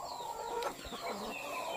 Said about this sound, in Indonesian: nah itu yang 3 ayam Bangkok kita juga